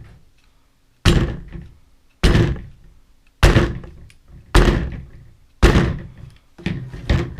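A CC Edge XL pistol, a full-size frame with a compact compensated slide, is dropped onto the back of another pistol six times, each drop a sharp, close, hard thunk followed by a brief decay, with no talking.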